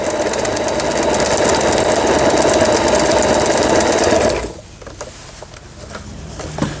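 A Lion LR1600 sewing machine stitches a leaf pattern with a fast, even mechanical whirr, loud and close, then stops suddenly, leaving faint handling noises.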